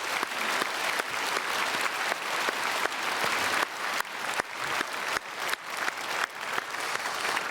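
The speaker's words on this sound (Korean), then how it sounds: "우리 박수로 축복하겠습니다." A church congregation at a Sunday worship service in Seoul claps steadily and loudly after a choir's anthem, dense applause sustained throughout with a few sharper individual claps standing out.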